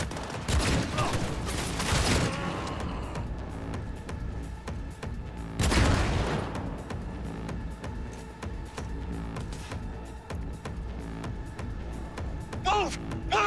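A Cyberpunk 2077 firefight with heavy bursts of gunfire and loud impacts, two big volleys standing out amid continuous rattling shots, with voices shouting faintly underneath.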